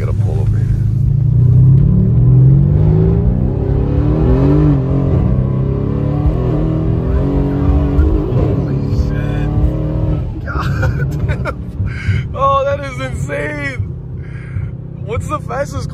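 A 1000 hp PTG-tuned Mercedes C63 S running regular 93 octane pump gas, its engine roaring loud and steady as the car pulls hard, with people talking over it in the cabin.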